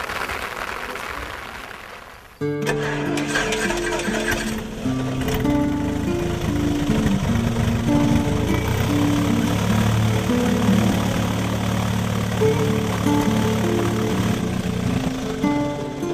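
A light aircraft's engine starts after its spark plugs are cleaned of lead deposits, then runs steadily and loudly with a droning, buzzing tone and no talk over it.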